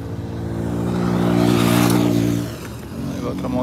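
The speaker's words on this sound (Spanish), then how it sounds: "Hay otra moto en chinga" A motorcycle speeds past on a street in Culiacán, its engine rising to a loud whirring peak and then fading as it moves away.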